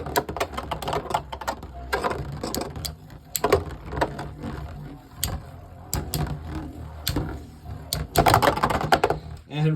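Plastic Beyblade spinning tops clatter and scrape against each other in a stadium after launch, giving rapid close clicking impacts throughout, with someone talking over the battle.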